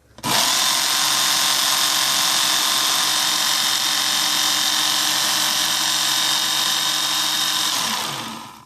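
A Work Sharp Ken Onion powered knife sharpener runs a blade across a 2,000-grit belt in one continuous, loud whirring pass that starts and stops abruptly, close by with no talking.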